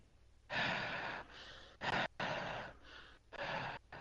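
A voice imitates Michael Myers' heavy breathing from Halloween: a run of slow, loud, close breaths, each a drawn-out rasping inhale or exhale with short gaps between them, and no words spoken.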